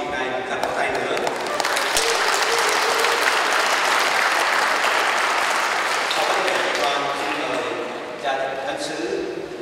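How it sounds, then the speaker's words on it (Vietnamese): Sustained audience applause in a hall at a Vietnamese Catholic community feast-day celebration in Anaheim, dense continuous clapping that swells and holds for several seconds before thinning, loud and close, with little talk over it. "Chúng ta xin cho quý vị này một tràng pháo tay nữa."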